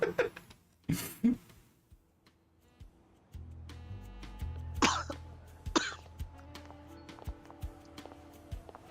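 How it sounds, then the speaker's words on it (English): Several sharp coughs and throat-clearing bursts come in clusters near the start and again midway, fairly close, with faint ticking and light background sounds between them. "I would ask if you're sick too, but I think I know why you're coughing"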